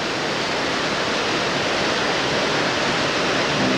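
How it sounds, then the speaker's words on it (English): Fast river water rushes down a narrow rock gorge at Glacier National Park, a dense, steady roar that fills the whole moment with no pauses. "it's quite a bit of water coming down a narrow"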